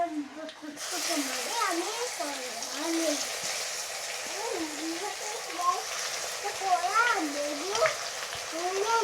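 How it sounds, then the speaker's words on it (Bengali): Onion paste fries in spiced oil for an egg curry, a continuous bubbling sizzle heard close while a voice talks over it. "এখন দিয়ে দিব পেঁয়াজ বাটা।"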